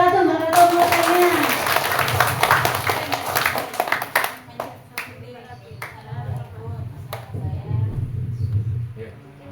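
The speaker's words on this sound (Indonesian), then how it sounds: "Ayo tepuk tangan untuk Baratu." Elementary schoolchildren clap together in a dense, lively burst for several seconds during an anti-bullying session at a school in Gresik, then the applause fades and people talk.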